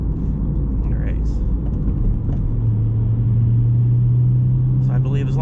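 A 2024 Honda Civic Sport with a six-speed manual accelerates through an intersection, its engine note swelling into a loud, rising drone over road rumble, with someone talking over it.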